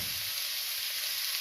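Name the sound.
spices and tomato sizzling in hot oil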